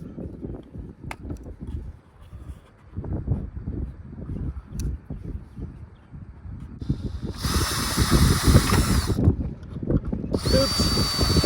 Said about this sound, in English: And then you just screw them in and the 2x4 just stays in place.